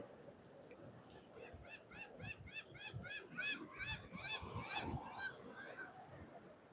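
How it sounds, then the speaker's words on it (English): A laughing gull gives a rapid series of laughing, honk-like calls, rising and falling in a rhythmic string, at moderate distance over a low background rumble. "Got a laughing gull up there making some noise."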